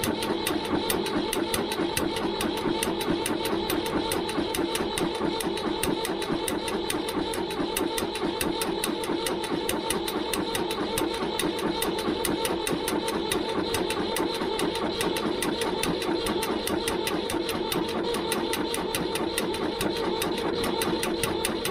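Ford 3000 tractor diesel engine without glow plugs, running steadily with a fast, even mechanical clatter throughout, loud and close, with no talk over it.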